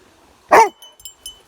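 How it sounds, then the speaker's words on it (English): A guide dog gives one sharp, loud bark up close, followed by a few faint clicks and small noises in an otherwise quiet room. "Do guide dogs bark?"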